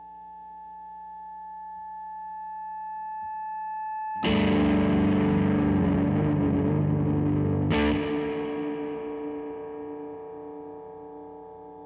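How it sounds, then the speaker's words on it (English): A low steady hum gives way to a sudden loud burst of distorted guitar feedback through a Tone King Falcon Grande amp's spring reverb that holds, then crashes again and slowly decays into a ringing tail. "you can get a sort of feedback thing going on with the reverb"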